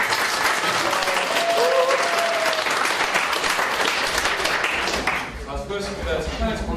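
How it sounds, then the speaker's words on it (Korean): A lecture-hall audience at a university talk gives a big, sustained round of applause, dense and loud clapping that fades near the end as a voice begins speaking over it. "여러분들에 대해서 보고서 다시 한번 큰 박수."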